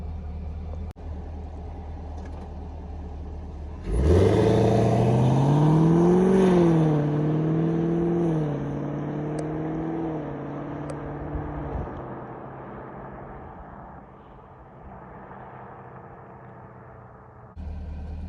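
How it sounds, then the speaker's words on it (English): A 2021 Camaro SS with dual-mode exhaust pulls away at moderate throttle in tour mode, a loud engine rise whose pitch climbs through a gear then settles into a steady cruising drone before easing off, with no talking. "Now I'm gonna give you a sound clip of an intermediate drive away"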